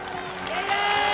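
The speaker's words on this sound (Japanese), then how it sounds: "今一度盛大な拍手をお願いいたします" Audience applause at a RISE kickboxing event, a short wash of crowd clapping that swells slightly over about a second.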